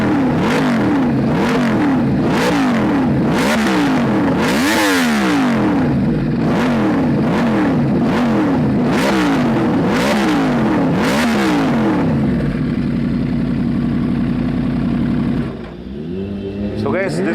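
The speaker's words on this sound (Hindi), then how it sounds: "this was the exhaust note of a full system Tose titanium exhaust on this Yamaha R1" Yamaha R1 superbike with a Toce full-system titanium exhaust, warm engine blipped repeatedly: a dozen sharp, loud revs rising and falling in quick succession, then settling into a steady idle burble before a final short blip.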